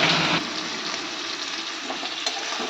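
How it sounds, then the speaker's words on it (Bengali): Lentil dumplings and fish frying together in hot oil, a loud, dense, continuous sizzle close by, slightly stronger at the very start and then holding steady, with no talking. "বড়ি ভাজা, মাছ ভাজা হয়তো হয়ে যাচ্ছে।"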